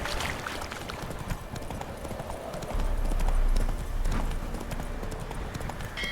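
Horse hooves clip-clopping in The Witcher 3 video game, a brisk, steady rhythm of close hoofbeats continuing throughout, with faint game ambience underneath.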